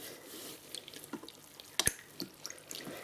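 Warm water runs and drips while a Sonic plush toy is washed, a soft steady trickle broken by scattered close drips and a brief sharper splash midway, with no talking.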